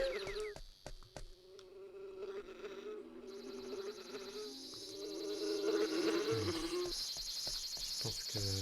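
Bees buzzing in the PSP video game Boku no Natsuyasumi, a steady high insect drone over quiet game ambience and soft tones, growing slightly louder toward the end.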